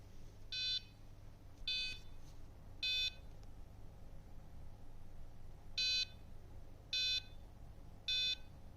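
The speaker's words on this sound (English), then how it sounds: "the only thing I could manage to get from this board were 3 short beeps" A computer motherboard's short electronic POST error beeps sound in two groups of three, evenly spaced and clear over a faint background hum, with a pause between the groups.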